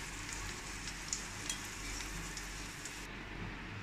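Cashews and raisins frying in ghee give a steady, close sizzle with faint crackles and the occasional soft pop, heard alone at low volume.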